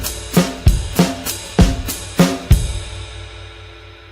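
A drum kit is played with the feet holding a steady bass pattern while the hands add a different pattern on top, giving several sharp, close hits with ringing cymbal decay and no talking.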